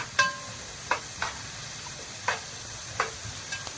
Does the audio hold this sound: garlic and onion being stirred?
yes